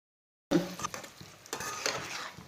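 Spinach and eggs frying in a pan, after a brief silence a spatula scrapes and stirs with soft sizzling and irregular clinks, close and fairly quiet.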